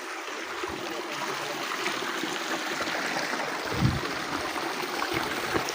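A stream runs among very large rocks, giving a steady, close rushing and trickling wash of water throughout with a brief louder splash near the middle.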